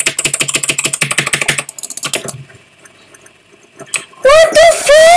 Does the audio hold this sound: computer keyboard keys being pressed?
yes